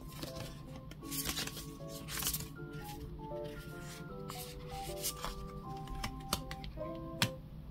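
Tarot cards being shuffled and drawn by hand, a steady run of soft, close riffling and ticking card sounds with sharper snaps near the end.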